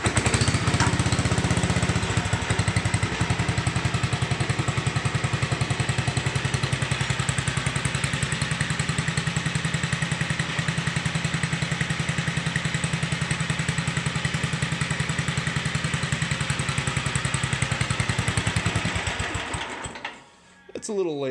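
Serviced Superide 7 riding lawn mower, custom-modified for speed, with its small engine running in a steady loud buzzing drone for most of the time, then cutting out briefly near the end.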